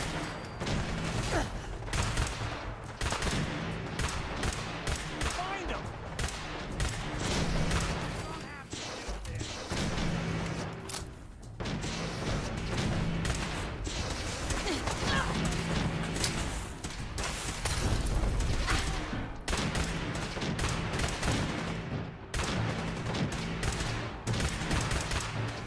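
Rapid, sustained weapon fire from a laser rifle in Fallout 4, dense bursts of shots running almost nonstop, loud and close, with game music and a voice talking over it.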